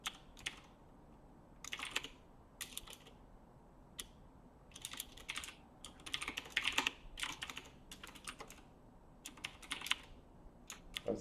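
Fingers patter on a computer keyboard during game test programming, coming in uneven bursts of close, crisp key clicks separated by short pauses in a quiet room.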